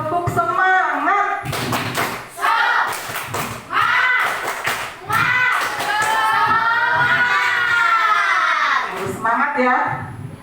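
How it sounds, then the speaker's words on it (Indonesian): Primary school classroom of children giving a spirited rhythmic clap, bursts of tapping hands under loud teacher and kid voices, with talk filling the pauses between clapping spells. "Boleh kasih aplaus buat kalian semua"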